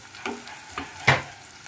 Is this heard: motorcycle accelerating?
no